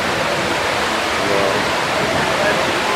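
The Mirage casino waterfall in Las Vegas at night roars as a broad, steady wash of falling water, loud and close, with no breaks; faint voices may sit under the noise.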